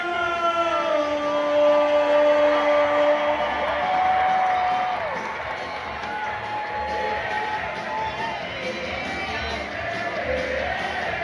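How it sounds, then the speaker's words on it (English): A large baseball crowd at a Banana Ball game in Savannah, Georgia roars continuously, with a siren-like rising and falling whoop sweeping over the broad, loud cheering. "Listen to this crowd."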